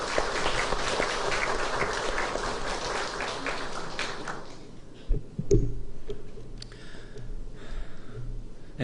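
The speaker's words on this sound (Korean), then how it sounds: "우리 함께 격려의 박수 하겠습니다." A church congregation claps in warm encouragement, a dense roll of applause for several seconds that fades out, followed by faint room noise and a few scattered sounds.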